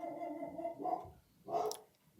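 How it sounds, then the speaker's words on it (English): A dog inside a house barks at a car parked outside, two separate woofs about half a second apart, moderately loud. "barking at a car outside the house"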